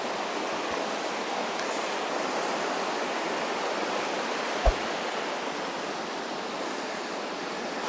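Steady rushing flow of the River Twiss beneath a bridge, a continuous broadband wash of moving water close by, with a brief knock partway through.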